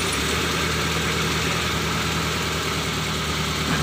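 Mitsubishi Colt 120 SS engine idling at high revs: a loud, steady, close mechanical hum with constant vibration and no change in pace, no voices.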